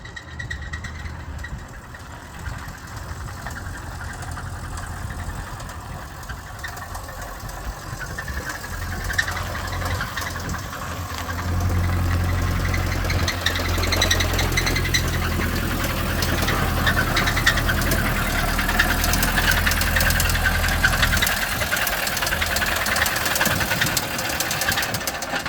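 A 1974 Ford engine runs steadily with a deep, loud low rumble, swelling in intensity around the middle as it is revved and held, with some knocking under the drone and no talk.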